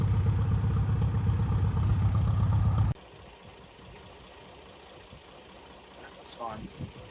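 An Allis Chalmers pulling tractor engine runs with a loud, steady idle that cuts off abruptly about three seconds in, followed by quieter background noise.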